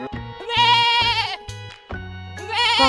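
A goat bleats loudly and nearby in two long wavering calls with a short gap between them, with no other sound around it.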